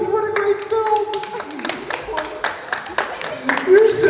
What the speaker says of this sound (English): You just want to sit up and applaud for the movie because that was brilliant.